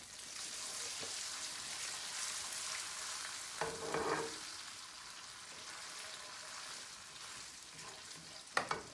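Crushed garlic frying in a pan for chicken karahi, a soft, continuous crackling sizzle with a few faint clinks of a utensil and a sharper knock near the end, no talking.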